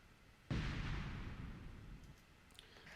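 A loud explosion sound effect from a dark EDM mix hits suddenly with a deep booming impact, then a long rumbling tail fades slowly over the next few seconds.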